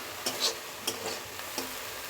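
Small fried shrimp sizzle softly in hot oil as they are lifted out, with a few light clinks of a utensil against the pan over the low steady hiss.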